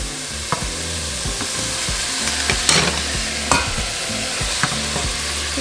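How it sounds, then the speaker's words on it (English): Red chile sauce and ground beef sizzle steadily in a pan for a gorditas filling, a loud dense hiss broken by occasional scraping stirs and small pops. "now we're just going to let our meat and our sauce come to a simmer"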